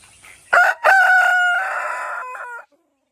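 A large village rooster crows once, loud and close: a long, drawn-out call that holds steady, then breaks into a few short notes at the end. No one speaks.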